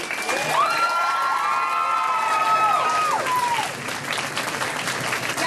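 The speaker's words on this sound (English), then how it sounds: "Let's cheer them on." A high school crowd cheers and applauds at a Locks of Love hair-donation event, dense clapping throughout with excited shouts and high voices rising over it for several seconds.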